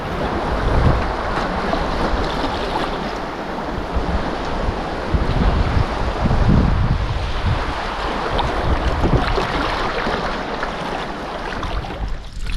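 Rapids on the Brule River churn in a steady, close, full-bodied roar of rushing whitewater that never lets up, with no voices.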